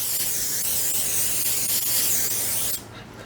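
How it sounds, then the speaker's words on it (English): Cooking oil sprays onto a baking tray in one loud, continuous hiss lasting a few seconds, close and alone, then cutting off sharply. "I'm gonna spray my tray with cooking oil."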